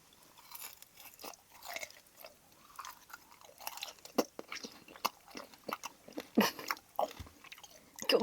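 Close, wet chewing and biting of grilled whole beef large intestine (daechang) dipped in sauce, with irregular squishy crunches and smacks throughout, no talk.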